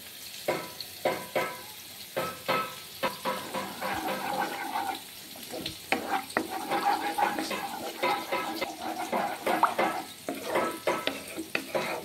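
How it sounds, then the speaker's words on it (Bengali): A little water goes into spice paste frying in a pan for bhindi shorshe paturi, giving a steady watery sizzle and bubbling with spatula stirring throughout, fairly loud and close. "এবার এর মধ্যে দিয়ে দিব সামান্য একটু জল।"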